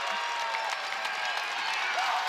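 A basketball arena crowd at Freedom Hall applauds at the end of a college game, steady dense clapping and cheering from many people, with an announcer's voice faintly underneath.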